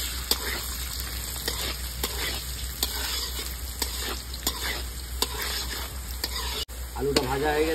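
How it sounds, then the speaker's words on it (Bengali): Chopped potatoes with salt and turmeric fry in oil, a loud continuous sizzle punctuated by regular scraping strokes of a spatula stirring the pan. "আলুটা ভাজা হয়ে গেছে, আলুটা আমি তুলে রেখে দিচ্ছি।"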